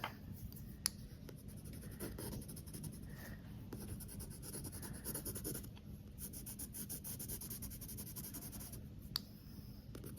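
A pencil shades a cylinder drawing with a continuous soft scratching of graphite on paper. The back-and-forth strokes are close but quiet, with a couple of faint taps and no talking.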